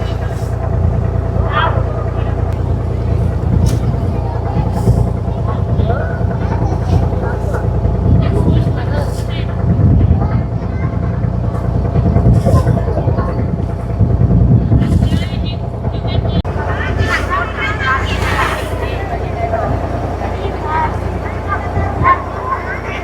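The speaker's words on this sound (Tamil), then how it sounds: "போட் ஓடிக்கொண்டிருக்கிற போகிற போட் வந்து" A boat engine drones steadily on the crossing to an island, a loud continuous low rumble with wind and water noise throughout, and someone talks over it.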